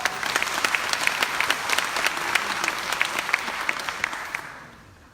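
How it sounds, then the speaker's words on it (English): A crowd claps steadily and enthusiastically for several seconds, the applause dense and sustained before fading out at the end. "Give them a big round of applause."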